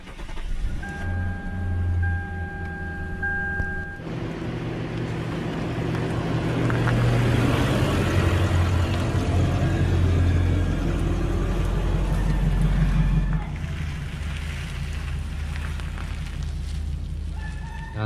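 A Lexus car engine is started and left running, a steady low rumble with a rise in the middle, close and continuous, with no talking over it.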